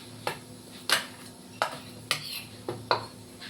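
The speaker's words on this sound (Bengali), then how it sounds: "এবার আমি বেগুনটা এই কড়াইয়ের মধ্যে একটু নেড়ে নেব।" Boiled eggplant is stirred in a wok (kadai), and the utensil strikes the pan in a steady series of six clear metallic clinks, evenly spaced, each with a short scrape.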